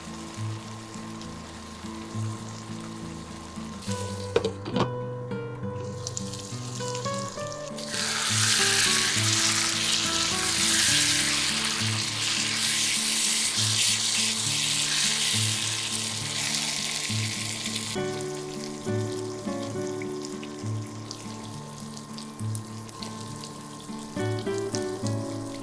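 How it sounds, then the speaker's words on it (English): Steady loud sizzling of dried Bombay duck fish frying in a pan, continuous crackle with occasional stirring scrapes, background music playing underneath throughout. "Keep frying and mixing"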